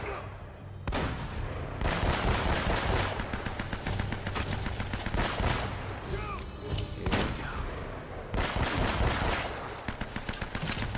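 Sniper and enemy gunfire in the video game Uncharted: Drake's Fortune, a dense, loud barrage of sharp rifle cracks and rapid bursts that keeps going for the whole stretch with brief lulls, over a busy game soundscape.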